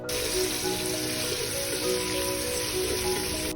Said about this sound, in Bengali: আর অন্য চুলে আমি রোস্টের জন্য পেঁয়াজ দিয়ে দিলাম